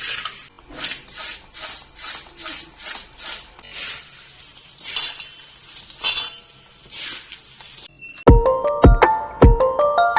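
A spoon scrapes and rustles through dry thin-poha chivda in a large metal vessel with repeated stirring strokes, ending in several bright metallic clinks near the end.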